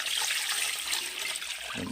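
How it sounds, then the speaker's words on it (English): Tap water runs steadily into a pot of chitlins and hog maws, making a continuous close splashing rush with no pauses. "we're just going to put enough water up there to cover them"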